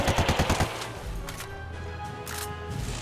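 Rapid bursts of automatic gunfire from Ghost Recon Wildlands, a loud close string of about six shots in quick rhythm, then a lower rumbling ambience with faint distant noise.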